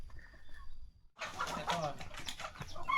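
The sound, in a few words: chickens clucking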